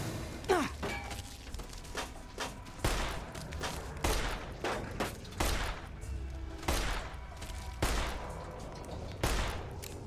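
Repeated .357 Magnum revolver shots in Fallout: New Vegas, about seven loud, sharp reports spaced roughly a second or more apart over a dense game-ambience background.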